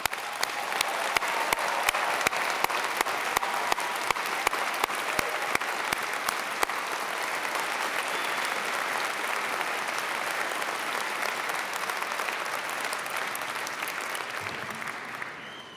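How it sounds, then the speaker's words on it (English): A large convocation crowd applauds the new fall 2018 graduating class, a dense, sustained roar of clapping that holds steady throughout and fades at the very end. "I will ask you to join me to give a very warm applause to our brand new class"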